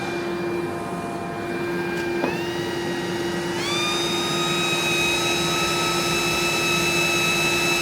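A shop dust extractor runs steadily and loudly throughout, its broadband roar carrying tonal whines that step upward in pitch twice as the airflow changes.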